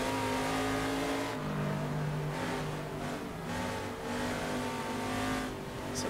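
A TransAm Legends race car in the Assetto Corsa video game, its engine roaring and revving through gear changes with repeated lifts and surges as it brakes and accelerates, loud and continuous.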